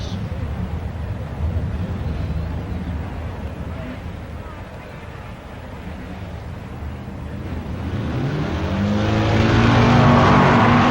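Drag race cars from 1965 run down the strip at the AHRA Winter-Nationals in Phoenix, a blurred, distant engine drone with wind-like hiss that swells louder near the end.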